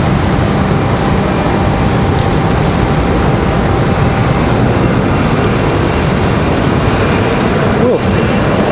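An Embraer E175 jet arriving from JFK at Raleigh-Durham airport makes a loud, steady roar, a broad unbroken rumble lasting throughout.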